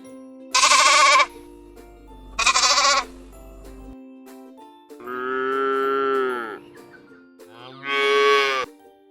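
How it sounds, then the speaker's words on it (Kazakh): A cow lets out one long, drawn-out low moo after two short, sharp animal bleats, with a final bleat following it, all loud and close with no talking. "Сиыр."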